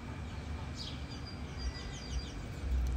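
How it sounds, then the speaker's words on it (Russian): Birds chirp faintly in short, high tweets outside a hotel in Turkey, over a steady low rumble of wind or traffic. "Эти звуки птичек"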